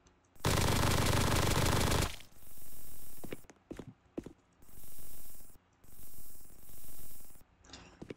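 Red and blue spray paint being sprayed in a video game: one long steady hiss, then several shorter bursts of spray separated by brief clicks and rattles.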